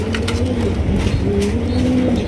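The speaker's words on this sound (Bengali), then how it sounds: "এটা হলো হাই ফ্লাইং গিরিবাস কবুতর" Loud, overlapping coos from a breeding pair of high-flying Giribaz pigeons repeat through a dense, rumbling backdrop of other birds in a pigeon farm.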